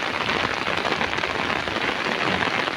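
Heavy rain pours down on a cassava field in a dense, even hiss, with no pauses and no voices.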